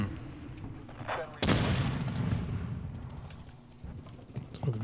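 Video game gunfire erupts in a sudden loud burst of shots that rattles on and fades over a few seconds, with quieter game sounds before it and a person talking intermittently.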